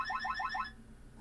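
A short electronic lockout alarm from a Wyze gun safe, four quick rising chirps, close and clear, then stopping abruptly.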